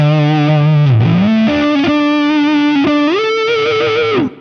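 Roland Double Beat AD-50 fuzz-wah pedal on its sine wave setting, producing a loud, continuous distorted electric guitar tone with smooth rounded wah sweeps and sustained notes shifting pitch, played alone without any voices.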